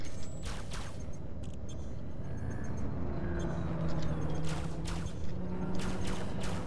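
Spaceship weapons fire at an enemy ship in Elite: Dangerous, a steady stream of rapid shots layered over a constant low engine rumble, with a few sharper bursts standing out.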